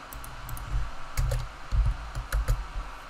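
Close, fairly loud typing on a computer keyboard, with short runs of key presses separated by brief pauses and no speech.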